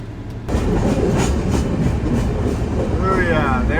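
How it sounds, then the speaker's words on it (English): A heavy train rumbles past close by, a steady roar of wheels and rail noise with squealing metallic tones near the end. "The train is now stopping."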